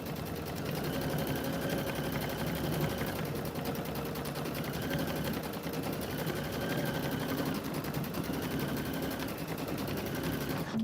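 A Brother Luminaire 3 embroidery machine stitches quilting at speed, a loud, continuous rapid needle chatter with a dense mechanical rattle that runs without pause.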